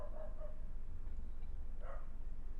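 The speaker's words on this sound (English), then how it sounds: "Little dog barking, but that's cool." A small dog barking faintly in the background of an indoor room, two short yips, one near the start and another near the end, over a low steady hum.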